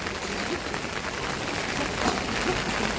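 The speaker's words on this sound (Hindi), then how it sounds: "दोबारा से बारिश शुरू हो गई देखो" Steady rain falls on a flooded village after a long downpour, a dense even hiss of drops hitting surfaces with faint patters close by, continuous and with no voices.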